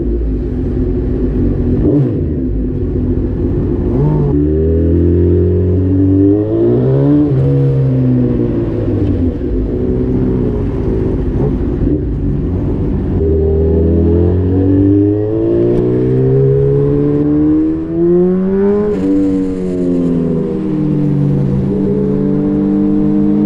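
A custom Honda Fireblade motorcycle on a test ride rumbles loudly and close, its engine note rising and falling through repeated revs and gear changes against steady wind roar.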